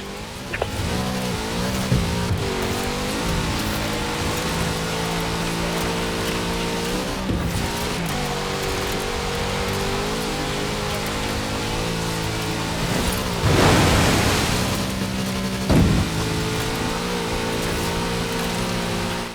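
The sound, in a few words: big Chevrolet car engine in Forza Horizon 4 video game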